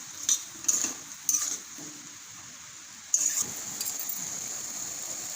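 Capsicum and potatoes are stirred through a simmering curry gravy in a pan, giving a few short scraping spoon strokes over a soft, steady bubbling sizzle, close and fairly quiet, with no talking.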